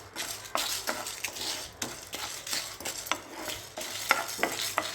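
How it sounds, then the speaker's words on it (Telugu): Chopped green chillies fry over a high flame while a spoon stirs them in the pan. A steady sizzle runs under repeated scraping strokes, close and clear, with no voices. "మనం దీన్ని ఫ్రై చేసుకోవాలి."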